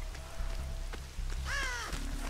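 A single harsh crow caw with a falling, raspy tone sounds in Dead by Daylight, a horror video game, heard close over a steady, rain-like ambient hiss.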